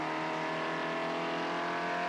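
Porsche race cars from the 1987 Rothmans Porsche Challenge roar along the back straight at Shannonville, a dense, sustained engine drone with layered harmonics from several cars at once, loud and steady throughout.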